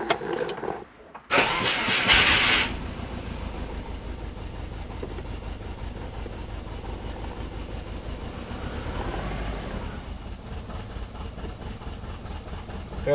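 A car engine with a freshly updated ECU cranks briefly, catches and settles into a steady, slightly uneven idle that continues close by.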